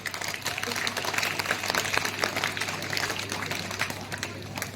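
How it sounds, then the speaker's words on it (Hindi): Audience at a school event applauding a performance by students, dense steady clapping throughout with a constant low hum underneath. "पुनः और जोरदार से ताली बजाएंगे"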